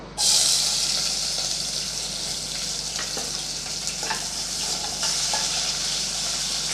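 Chopped small onions hit hot oil with mustard seeds and urad dal in a pan for a Tamil rice-and-lentil dish, bursting into a loud close sizzle that settles into a steady frying hiss, with faint stirring scrapes.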